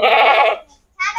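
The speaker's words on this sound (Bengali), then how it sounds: "আমরা খাসিটি বাড়িতে নিয়ে এসেছি" A castrated male goat newly brought home for Eid al-Adha in Noakhali gives a loud, close bleat, a wavering cry lasting over half a second, then a brief pause before a second bleat starts.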